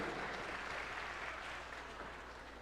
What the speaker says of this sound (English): a big round of applause for your sixth judge, Miss Felicia Brown-Acton.